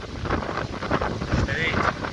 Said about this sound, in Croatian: Puše neki gadan vjetar, mimo traktoru bolje.